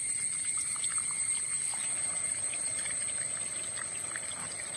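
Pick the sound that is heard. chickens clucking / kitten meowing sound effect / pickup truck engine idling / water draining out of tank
water draining out of tank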